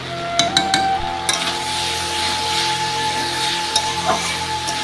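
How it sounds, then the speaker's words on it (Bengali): A pumpkin and spice dish is stirred in a pot, with a spoon clinking and scraping over a steady low sizzle and light metallic taps throughout. "এখন নাড়াচাড়া করে ঢাকনাটা দিয়ে দেবো"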